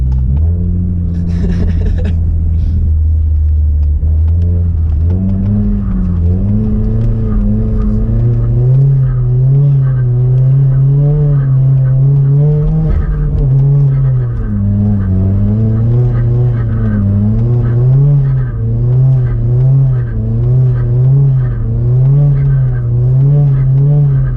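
Hyundai Genesis coupe engine heard from inside while driving, a loud, steady low rumble that climbs and falls through repeated revving and acceleration pulls over about twenty seconds.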